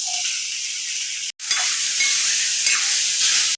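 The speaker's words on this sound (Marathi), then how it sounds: "भिजवलेले हे मुरमुरे यात टाकून घ्यायचे." Soaked puffed rice (murmure) tipped into a hot pan with turmeric and salt for sushila, then stirred, giving a steady close sizzle and hiss with a brief break partway, no talk.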